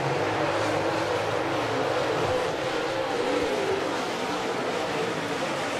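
Super late model dirt race cars roar continuously through a heat race at Mountain Motor Speedway, a loud, steady engine drone filling the whole stretch with no pause.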